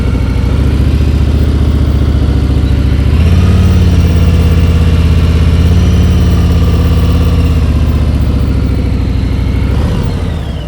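A motorcycle engine idles at low speed while the bike barely moves during low-speed turning practice from a stop, a steady close throb that holds loud and even throughout, with a slight shift in pitch midway and no talk.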